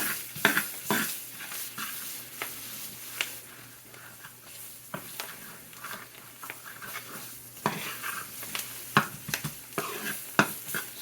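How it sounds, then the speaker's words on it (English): A small onion and flour browning in fat in a pan for pork chop tomato gravy. A spoon scrapes and stirs in repeated sharp strokes over a low, steady sizzle, close and moderately quiet, with no speech. "I want to put my onions in there with it, my small onion. And I want to brown them all together."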